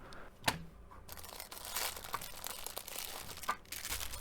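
A Casio branded plastic packaging bag for a G-Shock DW-5610 watch crinkles and rustles close up in short crisp bursts, with a few sharper crackles, quiet and without speech.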